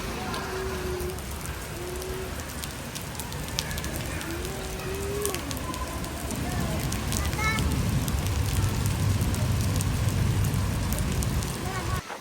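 Heavy rain pours at a water theme park, a dense steady hiss that swells louder in the second half, with indistinct voices and shouts mixed in.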